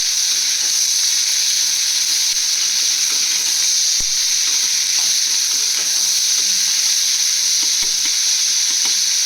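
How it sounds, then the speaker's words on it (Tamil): Three medium onions sautéing in a pan for Tamil chicken kulambu, a loud unbroken hiss of oil sizzling close up, with occasional soft clicks of stirring and no voice. "நல்லா வதங்கட்டும் ஆனியனு"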